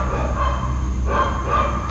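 Dogs bark outdoors in a couple of short, sharp bursts, moderately loud over a rough, noisy background.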